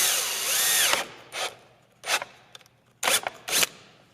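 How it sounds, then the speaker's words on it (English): Power drill boring a hole with a 3/8 inch bit in a 2019-or-later Chevrolet Silverado or GMC Sierra interior panel, a whining spin-up followed by several short, sharp bursts of drilling separated by pauses. "Using a 3/8 inch drill bit, drill a hole in this exact location."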